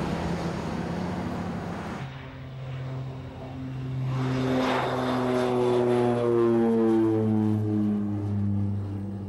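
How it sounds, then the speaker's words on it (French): A propeller airplane drones loudly, its engine pitch rising and shifting as it passes close by, steady and continuous with no voices. "Heureusement que Machado nous a prêté son avion."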